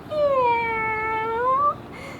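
A single drawn-out meow imitated by a human voice, close and clear, rising slightly at the end before trailing into quiet.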